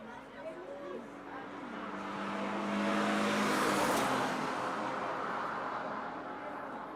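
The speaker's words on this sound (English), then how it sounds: "That'll be the next car to come through." A six-cylinder Lexus on a speed run at a top-end racing event roars past, building to a loud peak near the middle and then fading, over a crowd murmur and a public-address voice.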